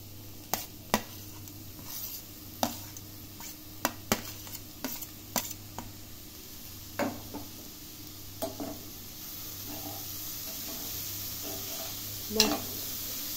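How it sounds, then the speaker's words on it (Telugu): Grated cauliflower sizzles in a hot pan while a utensil scrapes and taps against the metal in irregular strokes, close and moderately quiet, with the stirring easing off toward the end. "ఆ తర్వాత కాలీఫ్లవర్ తురుము వేసుకున్నాం."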